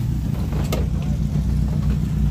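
Off-road cars and a vintage buggy roll out at a Baja rally, with a low steady engine rumble and idling nearby, a brief sharp clatter midway, under outdoor background chatter.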